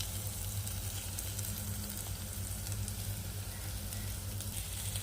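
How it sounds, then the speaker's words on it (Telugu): Chopped onions with a little salt fry in a pan for a quick Telugu-style bottle gourd breakfast, giving a steady, even sizzle throughout with no talking. "ఉల్లిపాయలు ఇవన్నీ త్వరగా వేగుతాయి"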